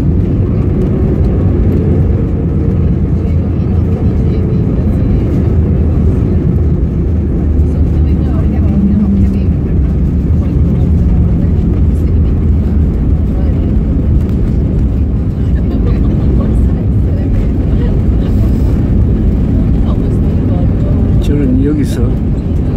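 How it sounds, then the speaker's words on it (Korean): Airliner cabin during landing and taxi at a German airport, a continuous loud low engine and rolling roar that stays steady throughout, with someone talking over it. "자, 착륙합니다."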